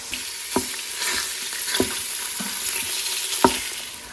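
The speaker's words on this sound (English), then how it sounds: "just gonna break it up and then we're gonna let this cook till it's nice and browned" Sausage browning in an Instant Pot, a steady close sizzle broken by a few sharp taps and scrapes as the meat is broken up, with no talking.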